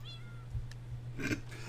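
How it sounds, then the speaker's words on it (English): A single faint, short cat meow plays as a vote sound effect in a Minecraft minigame on the Hypixel server, over a low steady hum. "Every time you vote, there's a cat noise."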